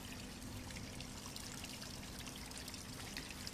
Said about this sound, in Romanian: Puțin ulei de măsline.